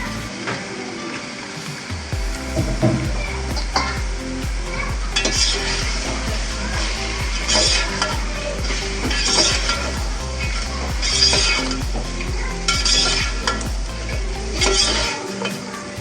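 Chicken frying in hot oil with garlic and ginger paste for a korma, sizzling steadily and stirred throughout, with a bass-heavy music bed underneath.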